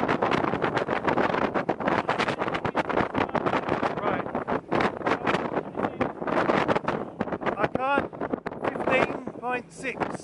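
Strong headwind buffeting a Trader 535 Sunliner motor cruiser at speed, loud gusty roar and microphone rumble over engine noise, with people talking throughout.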